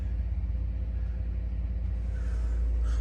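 A Ford F150 with a Coyote engine, shifted into four-wheel drive, rolls through deep snow after a blizzard. A continuous deep, muffled engine rumble carries close and steady for the whole few seconds.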